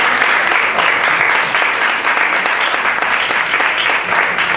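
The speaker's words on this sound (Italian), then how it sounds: "Applauso!" Sustained, loud applause from an audience at a grape festival event in Italy, dense clapping holding steady throughout without letting up.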